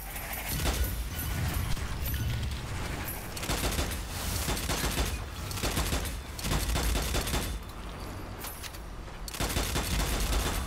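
Continuous rapid gunfire in the video game Strange Brigade, dense overlapping shots and bursts running loud throughout with short dips, no talking over it.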